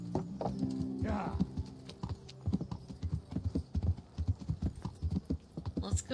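Horse hooves clip-clop in a steady walking rhythm in Kingdom Come: Deliverance, close and fairly loud over a faint game music bed, with a voice talking briefly near the start.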